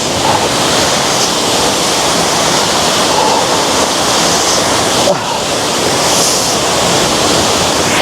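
A waterfall in the mountains roars as a loud, steady broadband rush of falling water, close by and continuous throughout.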